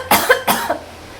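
Two sharp, close coughs in quick succession, then quiet.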